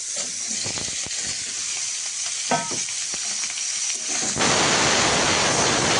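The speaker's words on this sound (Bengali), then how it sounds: "মাছগুলো কড়াইতে দিয়ে দিয়েছি ভাজার জন্য।" Tengra fish fry in hot oil in a wok, giving a steady, dense sizzle with faint clinks that swells louder near the end.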